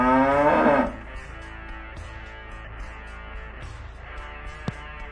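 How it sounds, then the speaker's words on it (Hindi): A cow moos once, loud and close, in a cattle and buffalo pen, a long drawn-out low call, followed by quieter shuffling and faint background noise. "गाय का रंभाना"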